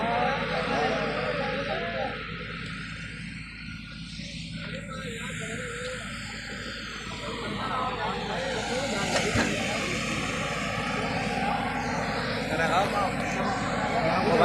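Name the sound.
tractor engine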